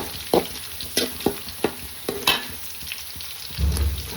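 Onions fry in a pan with a steady sizzle, punctuated by several sharp close taps and scrapes of a utensil against the pan, ending in a low rumble.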